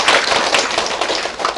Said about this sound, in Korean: 올라와주신 닥터쿠 선생님께 다시 한번 큰 박수 부탁드립니다.